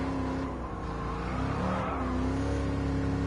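A V8 engine in Gran Turismo 7 holds a loud, continuous, tonal growl that rises and shifts a little as it revs, heard close and alone without voices.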